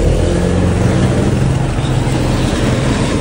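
A Yamaha Aerox scooter with upgrades and a freshly serviced steering bearing roars along on a test ride, its engine droning loud and close with a steady, unbroken note and heavy wind rumble.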